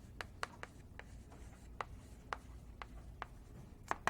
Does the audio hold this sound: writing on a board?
yes